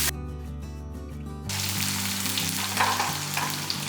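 Onions and spices for sambar sauté in a hot pan with curry leaves, a steady loud sizzle with crackling that follows a brief stretch of music at the start.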